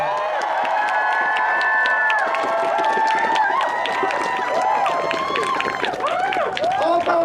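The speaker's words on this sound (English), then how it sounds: "I want us to all give Jasper a round of applause." Rally crowd in downtown Los Angeles cheering and applauding loudly throughout, a dense sustained roar of many voices with clapping mixed in and some shouting rising near the end.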